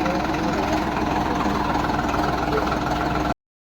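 A Sonalika Gold Series tractor engine idling, a steady low rumbling throb close by for about three seconds before cutting off abruptly.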